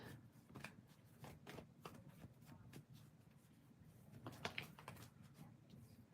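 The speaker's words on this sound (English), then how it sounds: "I have to shuffle a little bit more." Tarot cards being shuffled during a live reading session, a quiet run of soft riffling and tapping bursts repeating irregularly, close and faint.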